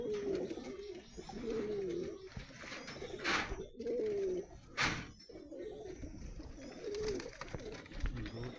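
Male pigeons in an overcrowded small loft coo in repeated low, throaty phrases, several close calls overlapping with brief flurries of scuffling and wing noise between them.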